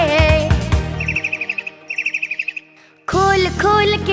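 Short, rapid bird chirps in a children's rhyme come in two quick bursts of about eight notes each, set between loud musical passages and then falling silent briefly.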